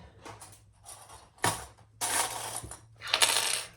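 A metal D-ring for a sewn bag being set down, with several light metallic clinks and rattles in short bursts, close and quiet, and no one talking.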